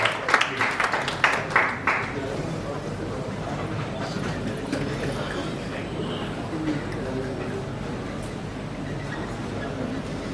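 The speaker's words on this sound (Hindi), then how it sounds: "आपकी बहुत जोरदार तालियों के साथ मैं बुलाने जा रहा हूं respected AK Das Gupta sir जी" An audience at an insurance institute event applauds to welcome a speaker, with a short burst of claps at the start that gives way to a steady murmur of crowd noise.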